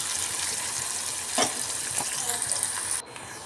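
Onions and crushed garlic sizzle steadily in a hot pan, with a brief scrape of stirring partway through, before the frying noise drops off sharply near the end.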